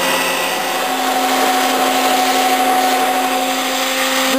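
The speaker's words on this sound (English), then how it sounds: "This machine is fully operational, way above average condition, having only run aluminum." A Makino A-77 CNC horizontal machining center, in above-average condition and used only on aluminum, runs with a steady, loud whine and hum that holds evenly throughout with no talking.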